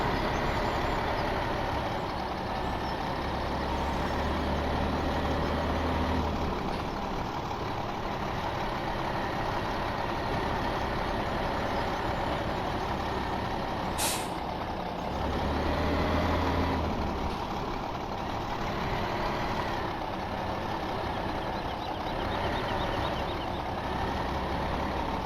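A truck in a farming video game, its engine idling and rumbling steadily up close while intermittent reversing beeps sound at a regular pace over the continuous mechanical drone, with no voices.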